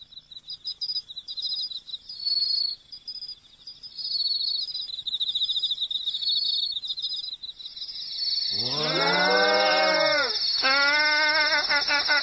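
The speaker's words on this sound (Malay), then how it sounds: "Merdu betul suara cengkerik-cengkerik tu, ya?" High, steady cricket trilling runs throughout, then loud chirping calls break in near the end, fairly close.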